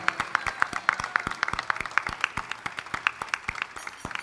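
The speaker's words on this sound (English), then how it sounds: "Can we have a big round of applause for all the parents and guardians here?" A crowd of parents and guardians claps together in a dense, steady burst of applause that carries on for a few seconds without any talking.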